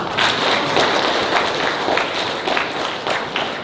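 A room of seminar attendees at a workplace training session claps together on cue; brisk, close, fairly loud clapping with a loose rhythmic pulse runs throughout.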